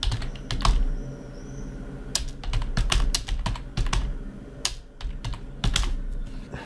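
Rapid, uneven keystrokes clatter on a computer keyboard, with bursts of clicks and short pauses while text is typed on a landing page, close and clear with no voices.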